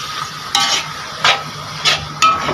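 Beans frying in vegetable oil with a steady sizzle, stirred in the pan with four distinct scraping strokes at a slow, even pace, close and fairly loud, with no talking.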